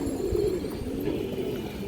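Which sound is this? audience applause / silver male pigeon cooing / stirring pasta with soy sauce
silver male pigeon cooing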